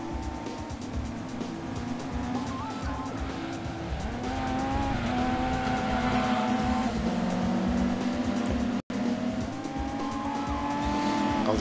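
Racing cars roar through a race in the video game Gran Turismo 2, engines droning steadily with shifting pitch as gears change, tires squealing at times; loud and continuous with no talking, a brief dropout near the end.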